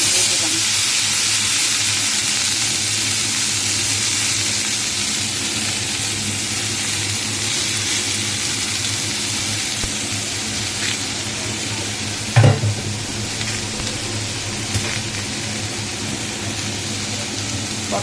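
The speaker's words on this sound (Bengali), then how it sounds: "কালো জিরে দিয়ে তারপরে কালো জিরেটা হলে পরে আমি এই পটলগুলো এর মধ্যে দিয়ে দিলাম" Pointed gourd fries in hot oil with black cumin (nigella) seeds, a steady close sizzle with a single clatter partway through.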